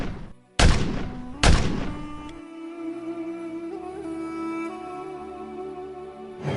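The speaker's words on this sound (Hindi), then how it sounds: "गांव की खामोशी में शाम के इस वक्त फायर की आवाज गूंजी।" Two loud, sharp gunshots close together, each with a booming tail, followed by a lingering ringing tone and low rumble.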